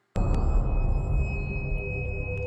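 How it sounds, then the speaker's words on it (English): A sudden deep swell of rumbling noise starts and holds, with a thin high tone ringing above it, then cuts off abruptly. "all you can hear is my beautiful dramatic build sound"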